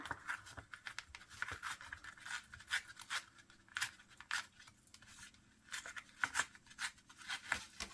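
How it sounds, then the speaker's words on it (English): Paper torn by hand into pieces for a vintage journal page, a series of short scratchy rips and crinkles in irregular bursts, close and fairly quiet. "This one is a little bit hard to tear."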